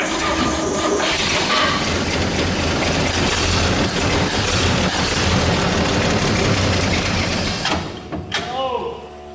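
A 60-year-old GMC military truck engine runs on gas, a loud, steady rumble with rattling for about eight seconds before it quickly dies away.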